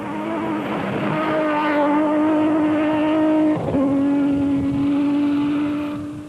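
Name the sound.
rally cars racing through a high-speed section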